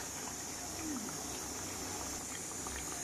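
A fish and cauliflower curry simmers in a pot, a steady soft bubbling and hiss of liquid heard close, faint and continuous, with no talking.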